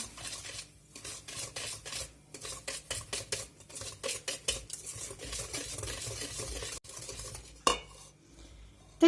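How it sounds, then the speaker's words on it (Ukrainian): Semolina is stirred into mannik cake batter in a bowl, giving a rhythmic series of scraping, clinking strokes that pause briefly, followed by a sharper knock near the end. "Рівно 200 грам манна крупа. Розмішуємо."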